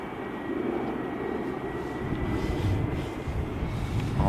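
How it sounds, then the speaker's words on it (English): A Jet2 Boeing 757 taxis at Manchester Airport, its jet engines making a steady, fairly distant broadband roar with a low rumble that holds level for several seconds, no talk over it. "Jet 2757 Alpha Kilo is on the taxi out for Tenerife."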